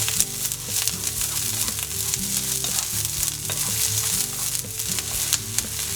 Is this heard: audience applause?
no